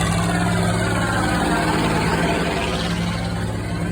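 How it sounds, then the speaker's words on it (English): An old Caterpillar tractor engine idles steadily at a historic construction equipment show, a low, continuous rumble with a constant hum running unbroken throughout. "And there's an old Caterpillar tractor, folks."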